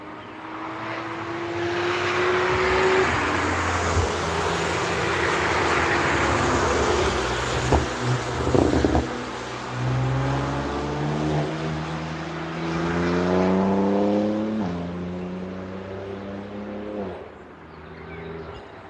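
Cars on a Nürburgring track day pass one after another, with engines rising and falling in pitch as they accelerate and sweep by. The revving comes and goes over a constant outdoor rumble.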